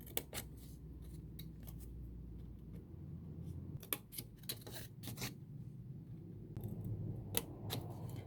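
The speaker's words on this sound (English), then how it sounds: "try to cut it more at a 45-degree angle like so, on all the sides like so" Scissors snipping through paper for a handmade Valentine's Day slider card, trimming corners at a 45-degree angle, a series of close, crisp irregular cuts with brief pauses between clusters.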